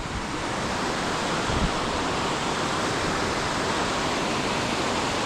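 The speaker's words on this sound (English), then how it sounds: "So another waterfall here" A waterfall on the Middle Prong Trail roars as a constant, loud broadband rush of falling water, steady and close, with no voices.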